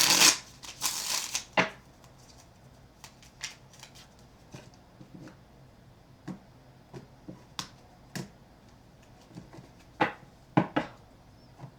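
A quick burst of tarot card shuffling at the start, followed by scattered soft taps and clicks of cards being handled and set down nearby.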